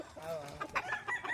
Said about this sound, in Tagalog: May mga manok tayo dito guys.